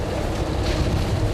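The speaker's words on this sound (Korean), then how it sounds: "근데 야속하기도 파도가 점점 거세진다." Strong wind and rough sea waves buffet a fishing boat working cockle harvests in autumn, a loud, dense roar of wind and churning water close around the hull, with no talking.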